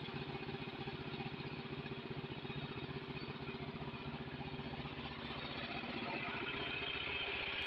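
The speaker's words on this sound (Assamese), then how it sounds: "ইয়াত ট্ৰেক্টৰ ষ্টাৰ্ট কৰিলোঁ।" A farm tractor engine runs close by after being started, a steady, rapid chugging idle that holds level and grows slightly louder toward the end, with no talk.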